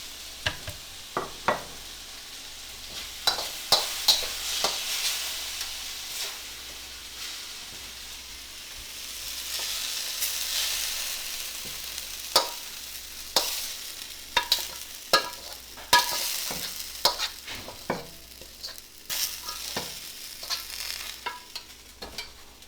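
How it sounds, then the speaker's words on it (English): Tomato and egg and sliced potatoes stir-frying in a home kitchen wok, a soft sizzle under repeated sharp spatula clacks and scrapes, close by, growing busier toward the end, with no talk. "So tomato egg stir fry, sliced potato stir fry"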